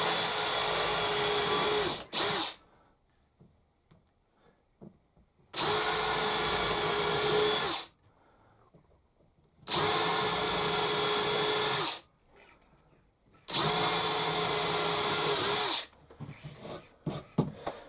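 A 4.2 mm bit drills into a workpiece G-clamped to the end of a bench, the power drill whining loudly in three steady bursts of about two to three seconds each, separated by quiet pauses.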